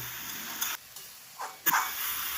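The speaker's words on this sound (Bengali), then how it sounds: "দেখুন সুন্দর করে কষিয়ে নিচ্ছি" Spiced amodi fish chorchori with winter vegetables and coriander leaves sizzles in a pan, a close, steady hiss broken by a few quick stirring scrapes and clicks.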